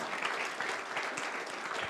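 Applause at an award gala for the first-place municipality of Krynica Morska in a 2021 municipal ranking: dense, steady clapping from a large audience that fills the whole moment without pause.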